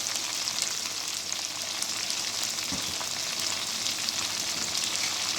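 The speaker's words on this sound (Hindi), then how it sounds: "बाकी हम इसमें 1 टीस्पून जीरा ऐड कर देंगे" Cumin seeds sizzle in hot oil for a mash daal recipe, making a loud, steady, crackling fry that runs without a break and with no talking.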